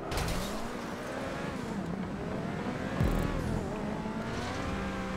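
A car engine in GTA V drones loudly and continuously at full speed on a parkour skill-test run, the revving pitch wavering slightly with a brief jolt partway through.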